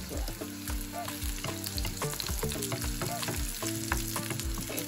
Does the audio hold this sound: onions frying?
yes